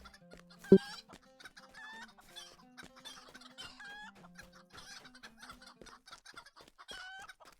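Chickens in an online fantasy game chicken run cluck and squawk repeatedly in a busy pattern, with one sharp loud click early and game effects beneath, with no talking.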